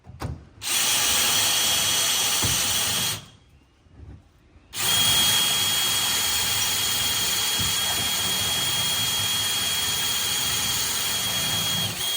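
A power drill whines steadily as it bores a hole into hard material on a Toyota Tacoma, stopping briefly and then grinding on again for a long, loud stretch.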